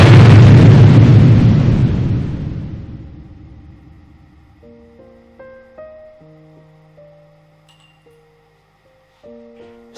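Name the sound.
war sound effects of cannons, bombs and sirens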